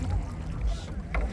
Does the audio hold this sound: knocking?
no